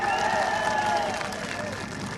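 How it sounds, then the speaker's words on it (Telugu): A crowd at a political rally claps and cheers in a loud, sustained burst that slowly tapers off. "చప్పట్లు కూడా చెప్పండి తీసేయాలంటే"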